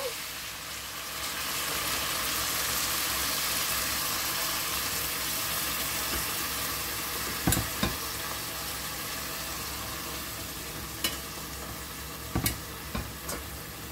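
Pumpkin soup vegetables and broth heating in a pot give a soft, steady bubbling hiss as they begin to boil, with a few sharp clinks of a utensil or lid near the end.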